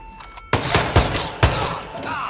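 Rapid gunfire in Hitman 2, a loud burst of several sharp shots in an uneven rhythm, preceded by faint game ambience.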